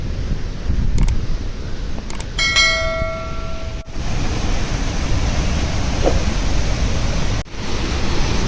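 Water crashes down at Surya Kund near Gangotri, a loud, continuous roar of a strong falling flow close by, with brief ringing bell tones rising above it early on.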